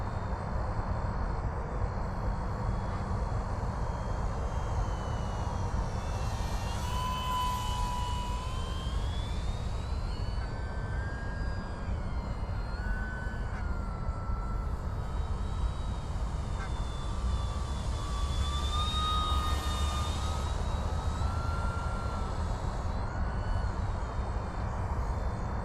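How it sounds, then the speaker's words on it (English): An Arrows Bigfoot 1.3 m STOL radio-controlled model plane cruises overhead, its electric motor whining in a steady drone that rises and falls in pitch as it passes at a distance, with no talk. "easy flying plane"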